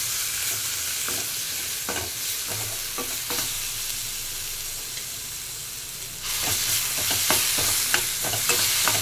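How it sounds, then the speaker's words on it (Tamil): Tomato, ginger and garlic masala with peas frying in oil for a paneer gravy: a constant close hiss with scattered spoon scrapes against the pan, the sizzle swelling louder partway through as stirring quickens; no talking. "தக்காளி, இஞ்சி, பூண்டு, அதை இதில் போட்டு வதக்கணும்."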